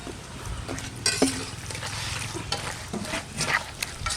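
Ginger and garlic paste goes into a pan of washed young goat mutton, giving a steady sizzle with scraping stirs and the odd clink of a utensil, close by.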